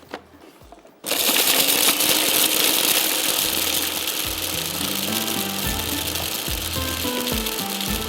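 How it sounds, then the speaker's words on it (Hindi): An electric food chopper whirring through ginger, butter and spices, starting abruptly after a brief quiet moment and then running as a loud, steady motor drone with shifting pitch, no talking. "इसको थोड़ा सा चॉपर को चला देना है"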